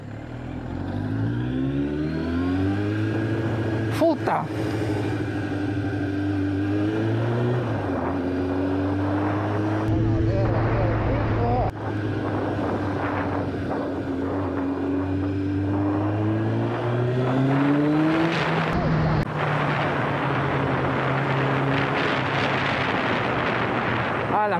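A 1993 Kawasaki ZX7 sport motorcycle engine revs loudly and continuously while being ridden, its pitch climbing and dropping through gear changes, with a brief exclaimed word from the rider.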